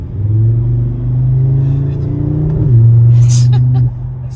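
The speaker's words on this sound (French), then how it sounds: "Moi, c'est ce bruit du 5 cylindres." A 2025 Audi RS3 five-cylinder engine pulls hard under acceleration, a loud, close droning growl that rises in pitch, dips briefly at a gear change, then climbs again before easing off.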